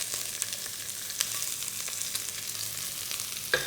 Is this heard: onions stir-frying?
yes